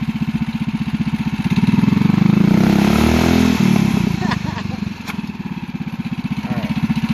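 A go kart's Predator 212cc engine idles with a pulsing chug, then revs up to a louder sustained roar before settling back to a throbbing idle, close by.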